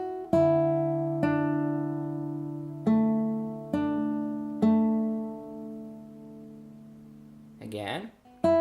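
Fingerstyle acoustic guitar plays an arrangement, six separate plucked chords ringing and fading in a slow rhythm, with a brief scrape of noise near the end.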